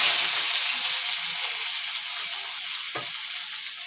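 Chopped onions frying in hot oil over a low gas flame for a spicy fish curry, a bright continuous sizzle and hiss near at hand with one short knock or stir near the end.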